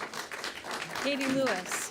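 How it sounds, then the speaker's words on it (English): An audience claps at a Morgantown city council meeting. The steady applause rises and fills the room while a voice speaks over it. "They can't hear you when you're talking because they're clapping."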